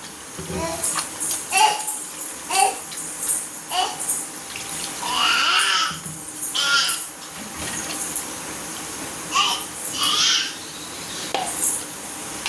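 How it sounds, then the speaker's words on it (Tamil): Water poured into a simmering Kerala-style spicy chicken gravy, a splashing pour that comes in several bursts, moderately close, with a person talking in between. "தண்ணி, அளவான தண்ணி ஊற்றிக்கோங்க."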